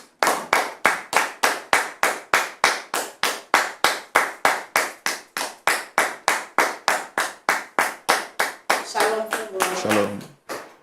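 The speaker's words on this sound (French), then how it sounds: "Je voudrais donc demander à nos frères et sœurs de bien vouloir la recevoir sous vos applaudissements" Rhythmic clapping from a TV studio audience, about thirty even, loud claps in a steady beat that loosen into a looser patter near the end, with a brief voice at the close.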